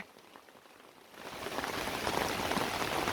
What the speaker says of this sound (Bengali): প্রচুর বৃষ্টি তো টিনের চালে শব্দ বেশি হয়